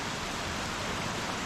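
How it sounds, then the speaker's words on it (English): Light rain beside a mountain stream in the Blue Ridge Mountains of North Carolina, a steady soft hiss of falling drops and flowing water with no other sounds. "It's raining a little bit right now."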